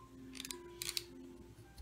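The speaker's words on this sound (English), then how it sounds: "anything that you don't get, just do it with the scissors" Scissors snip through paper while a Christmas card is crafted, a few quick close crisp cuts in short bursts, quiet and without talk.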